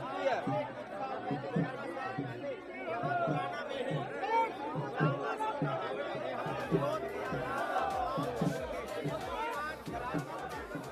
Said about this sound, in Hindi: भीड़ यहाँ पर एकत्रित हो चुकी है।